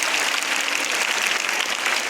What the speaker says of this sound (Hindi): आप सबों के लिए जोरदार तालियां होना चाहिए